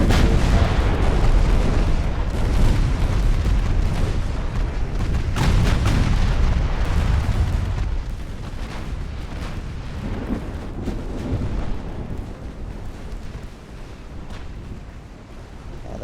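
Heavy booming impacts from torpedo hits on battleships in Ultimate Admiral: Dreadnoughts, a dense rumbling barrage of explosions and naval gunfire that is loud for the first half and then eases into a lower, ongoing rumble.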